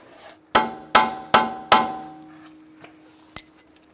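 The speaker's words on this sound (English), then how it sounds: "Now we're going to peen over our nut." Hammer peening over the strut nut on a front strut and spring assembly from a 2013-2022 Buick Encore: four sharp, ringing metallic blows in an even rhythm, then a lighter tap, close and clear.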